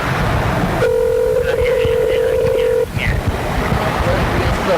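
Touch-tone telephone dialing for a prank phone call, heard as a steady tone followed by a quick run of keypad beeps, fairly loud over background hiss and rumble.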